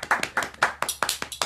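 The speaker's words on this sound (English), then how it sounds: "Give a big applause to the band." Rhythmic, close handclaps for a kirtan band, about a dozen sharp, evenly spaced claps in a quick steady beat, loud and alone.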